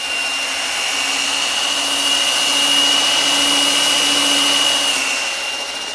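A RYOBI battery-powered scrubber runs as a loud, steady electric motor whine with a high hum, holding constant for several seconds with no talking.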